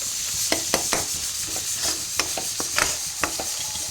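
Ginger-garlic paste with coconut and cashew paste is stirred into onions frying in a pan, a soft sizzle broken by a string of sharp spoon scrapes and clinks against the metal, close up and with no talking.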